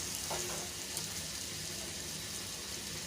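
Masala frying in a pot for lauki chana dal (bottle gourd with split chickpeas), a dense, even sizzle that continues without a break, with faint stirring and no talking.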